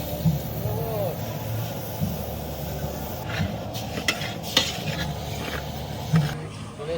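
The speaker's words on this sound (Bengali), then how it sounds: "সর্বপ্রথমে খিচুড়ির জন্য মুগের ডাল ভাজবো।" Mung dal for khichuri frying in a pan during an outdoor Holi cooking gathering, a steady sizzle with occasional stirring scrapes and utensil clinks, voices talking faintly in the background.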